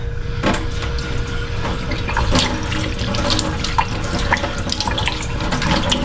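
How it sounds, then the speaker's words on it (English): Tap water runs steadily into a sink as hands are washed beneath it, a close, continuous splashing rush with small clinks and shifts in the flow. "I'm gonna wash my hands."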